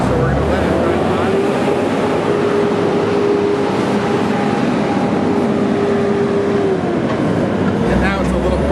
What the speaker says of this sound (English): We got a loud dump truck coming by, so we're going to let it run by.